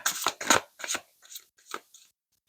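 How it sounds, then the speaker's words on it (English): Tarot cards being shuffled give crisp, papery riffling bursts, several quick flurries followed by softer, spaced-out shuffles, close up. "shuffling on camera is definitely a different experience"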